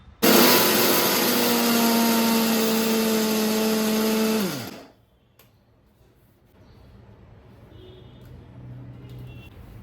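A mixer grinder coarsely grinds sesame seeds and cardamom in a loud, steady high whine for about four seconds, then spins down with a falling pitch and stops, leaving quiet room tone.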